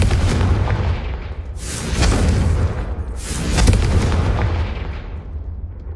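Repeated blasting-spell explosions from Hogwarts Legacy on PS5, two heavy booming bursts with broadband roar over a constant low rumble, each decaying slowly into the next.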